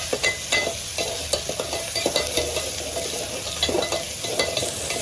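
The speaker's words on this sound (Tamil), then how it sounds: "கொஞ்சம் வெங்காயமும் வரமிளகாயும் நல்லா வதக்கிட்டு" Onions and dried red chillies stir-fry in a pan, a constant close sizzle broken by frequent quick scraping strokes of a spatula against the metal, no voices.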